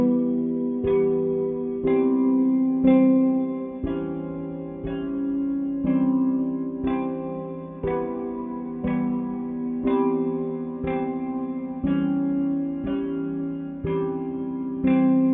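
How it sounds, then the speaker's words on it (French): A modified piano drowned in heavy reverb plays slow chords of a theme, evenly spaced struck chords every second or so, each ringing out into a long wash, alone with no voices. "je suis parti sur un piano modifié noyé dans une reverb"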